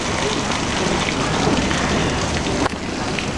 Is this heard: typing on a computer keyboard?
no